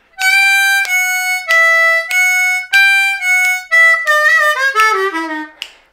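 Harmonica lick six on a D harmonica, a run of bright, reedy notes alternating in a bouncy rhythm, ending with a sliding bend downward, close and unaccompanied.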